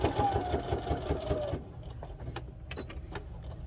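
A sewing machine stitches a fabric holiday star with a steady, rapid mechanical rhythm for about a second and a half. It then stops, leaving only faint scattered handling clicks.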